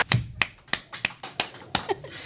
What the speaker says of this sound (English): Get a clap for that one.